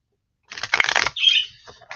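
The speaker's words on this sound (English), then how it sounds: "these are shuffling nice today." A deck of cards is shuffled for a card reading: a quick, close riffling burst, followed by a brief softer rustle and a faint tap, with silence before it.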